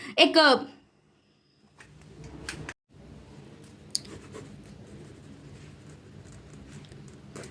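A pen scratches out a working note by hand on paper during an accounting lesson, soft continuous scribbling and tapping strokes running under and between a man's speech.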